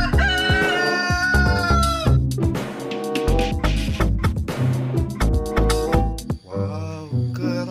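Loud, busy video game music from Jurassic World Evolution 2 with chicken-like clucking and squawking sounds layered in, bright and continuous throughout.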